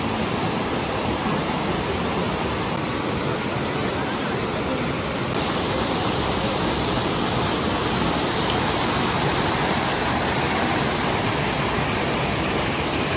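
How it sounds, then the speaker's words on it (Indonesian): Jumog waterfall in Karanganyar roars as a steady, dense wash of falling water, loud and continuous throughout with no breaks. "Itu dia air terjunnya"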